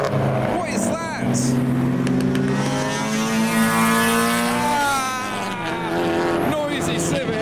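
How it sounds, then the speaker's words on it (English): A noisy Honda Civic drives past at an outdoor car show, its engine droning and rising in pitch as it passes close, with loud crowd and traffic noise around it. "Noisy Civic."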